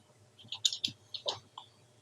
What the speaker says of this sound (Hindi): यहाँ पे आपने आके डबल क्लिक करना है